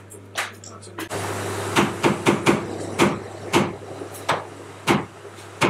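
Someone banging on a locked room door on a television drama set: about a dozen sharp, loud thuds in an uneven rhythm over a steady low hum, with voices faintly underneath.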